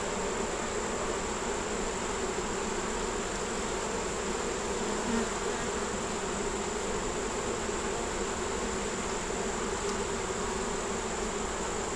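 Honey bees drone steadily around a hive holding a caught swarm, a dense, continuous buzzing of many insects that stays even and close throughout with no pauses.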